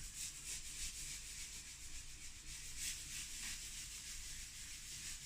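Soft, continuous rubbing as charcoal and chalk pastel are worked into a winter farmscape drawing, a quiet, steady scratchy friction with slight rhythmic strokes and no voices.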